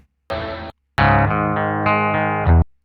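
Jaguar electric guitar on the bridge pickup through distortion effects, with a short distorted chord, a pause, then a longer sustained distorted chord that shifts a few times and cuts off cleanly.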